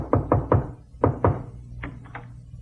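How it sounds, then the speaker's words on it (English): A radio comedy sound effect of knocking on a door: two quick groups of sharp wooden knocks, followed by a few lighter taps, close and dry with no voices. "Suddenly there was a knock on my door."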